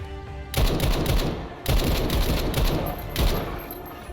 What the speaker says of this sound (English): We also have a new low tier weapon, the M1 carbine by Stroglet 15